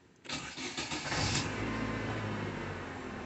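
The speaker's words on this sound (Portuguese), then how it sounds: "Motor tá frio ainda, primeira partida." A cold car engine cranks and catches after a brief quiet moment, then settles into a steady, close idle with a low continuous hum.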